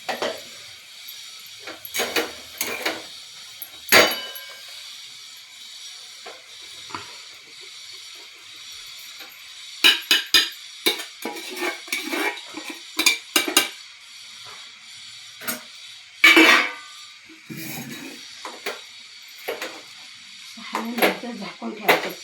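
Sabudana khichdi being stirred in a pan gives off scattered clinks and scrapes of a spoon against metal. The bursts are irregular, some sharp and some soft, with a faint sizzle and intermittent talking.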